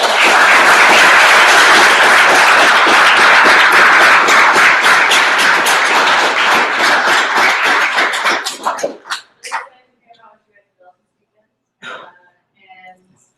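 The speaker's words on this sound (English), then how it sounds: "Can we have a round of applause?" An audience at an evening hackathon event gives a round of applause, a loud, dense burst of clapping for about nine seconds that breaks off abruptly, leaving a few scattered claps and quiet afterward.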